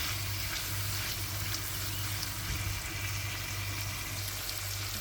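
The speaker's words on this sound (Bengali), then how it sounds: "চিংড়ি মাছটা দিয়ে দিলাম, এখন আমি এটা লাল করে ভেজে নিব।" Prawns frying in a pan, a dense constant sizzle at fairly close range with a low steady hum beneath, unbroken and without talk.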